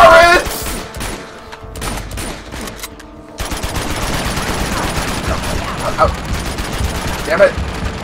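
A turret machine gun in Uncharted 2 rattles off long rapid bursts with loud repeated cracks, a brief lull midway before sustained firing resumes over game noise, with a voice speaking at the start.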